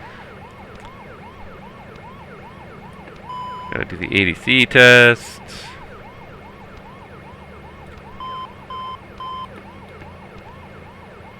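A wailing ambulance siren in a flight simulator game sweeps loudly for a couple of seconds, then fades to a fainter repeating tone, with a brief remark spoken over steady background hum.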